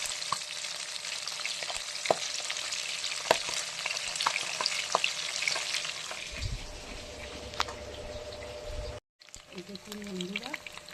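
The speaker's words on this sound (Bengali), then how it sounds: "মাছ ভাজা আমাদের হয়ে এসছে" Fish frying in a pan, giving a continuous sizzle with intermittent clicks and spatters. A voice speaks softly under it in the second half, followed by a short gap and then quieter sizzling.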